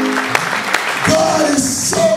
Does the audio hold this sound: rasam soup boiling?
no